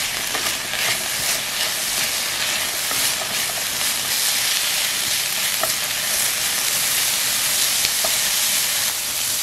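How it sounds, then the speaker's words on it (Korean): Carrots and celery sauté in a pan, giving a steady, bright sizzle throughout, with occasional light taps and scrapes of stirring. "당근과 샐러리를 넣어 부드러워질 때까지 저으면서 볶아주세요."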